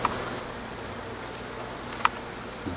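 A swarm of honey bees lodged in a building hums as a faint, steady buzzing drone outdoors, with a couple of brief ticks and a small knock breaking through the quiet background and no talking.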